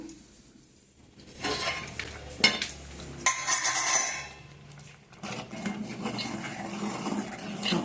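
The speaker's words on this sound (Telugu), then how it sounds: "అంతా ఒకసారి సంకటి కలుపుదాము" Pearl millet (sajja) sankati being stirred in a pot with a ladle: uneven bursts of scraping and clinking against the metal pot, close by, with quieter pauses between strokes.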